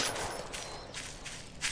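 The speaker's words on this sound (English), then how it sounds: "If you're wondering how I got these gun sounds" Gunfire in Garry's Mod, a quick faint burst of rapid shots lasting under two seconds, with no talking.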